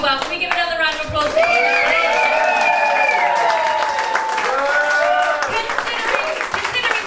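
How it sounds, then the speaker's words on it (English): Steady applause with scattered clapping from a theatre audience, with voices talking and calling out over it throughout. "Can we give another round of applause?"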